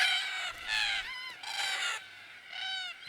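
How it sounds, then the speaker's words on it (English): Cockatoos calling at a watering hole in Australia at evening: a string of loud, harsh screeching calls, about five bursts in quick succession, close and raucous. "The local watering hole is their pickup joint. and the evening quickly turns into a boisterous party."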